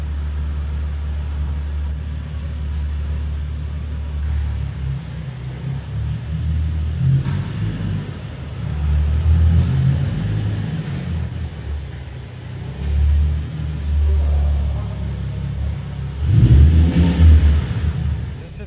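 A Nissan 350Z's engine starts and runs, heard as a deep steady idle rumble with swells in revs toward the end, close and fairly loud.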